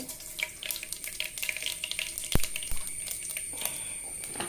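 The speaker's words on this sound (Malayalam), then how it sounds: "വെളിച്ചെണ്ണ ഒഴിച്ചിട്ടുണ്ട് അതിലേക്ക് ഇച്ചിരി കടുകിട്ട് കൊടുക്കുകയാണ്" Mustard seeds crackle and pop sharply in hot coconut oil, with a loud pop near the middle over a steady sizzle, close by and with no voices.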